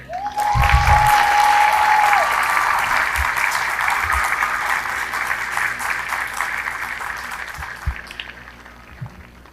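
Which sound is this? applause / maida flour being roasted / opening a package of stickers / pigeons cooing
applause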